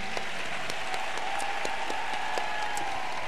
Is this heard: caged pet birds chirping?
no